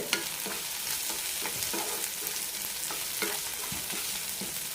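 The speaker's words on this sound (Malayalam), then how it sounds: "തക്കാളി വെന്തടയുന്നവരെ വഴച്ചെടുക്കാം" Tomatoes sauté in a hot pan for a horse gram chutney, with a continuous bright sizzle and repeated scraping stirs at an even pace and no talk.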